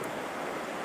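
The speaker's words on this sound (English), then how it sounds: "it's our Atlantic Ocean, and boy, is it active" Atlantic Ocean surf washing onto a beach at night, a steady, close, broadband roar of breaking waves mixed with wind rush, with no pauses.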